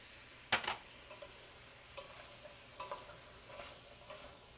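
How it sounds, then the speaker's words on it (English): Onions and potatoes fry in a pan with a soft, quiet sizzle, broken up by a few clicks and scrapes as the food is stirred. No one is talking. "Can you hear the sizzle in there?"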